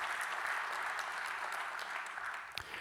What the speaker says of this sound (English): Also, please give them a round of applause